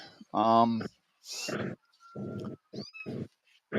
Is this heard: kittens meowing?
yes